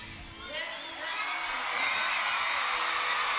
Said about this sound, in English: this environment just wild as the crowd once again chants for a 10